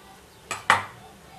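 Two quick, sharp knife strikes cutting through rolled pastry dough on a hard surface, the second louder, close and crisp against quiet room tone.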